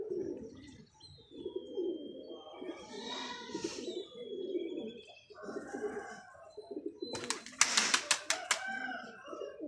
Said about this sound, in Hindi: लो जी टैडी कबूतर है और ये रुलावा कबूतर है